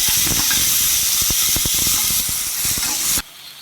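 Tomato frying in oil with dried red chillies, a loud steady hiss and sputter from a close pan with scattered crackles, cutting off abruptly near the end.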